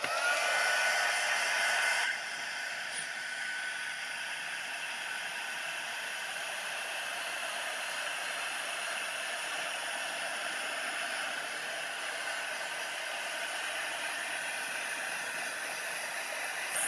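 Heat gun blowing a steady, broadband hot-air roar while heat-setting silver embossing powder on a craft project, close and continuous, with no talking.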